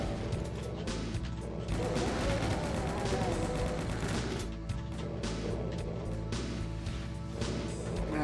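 Gunfire in the Doom game, aimed at a cacodemon: a dense run of repeated loud shots and blasts layered over game music, continuous for several seconds with no pauses, no talk.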